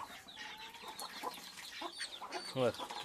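A hen clucks in short, throaty bursts close by, with soft rustling and a faint voice in the background.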